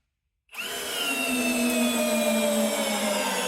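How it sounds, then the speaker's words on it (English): A cordless brushless drill drives a lag bolt at low speed settings, starting abruptly after half a second and then holding a loud, steady motor whine with a high-pitched tone to the end. "the drill driving a lag bolt on speed 1 and 2"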